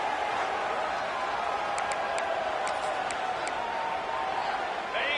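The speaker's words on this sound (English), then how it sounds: "This crowd unhinged, trying to make sure the Gators don't back down on 3rd down" A football stadium crowd roars in a loud, steady wall of cheering as Florida Gators fans urge their team on third down, sustained for several seconds.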